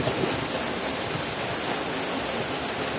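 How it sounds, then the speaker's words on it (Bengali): Steady rainfall outside makes a constant broadband hiss, moderately loud and unvarying, with no voices over it. "এখন দেখো আমাদের এদিকে জল হচ্ছে, হ্যাঁ, বৃষ্টি পড়ছে"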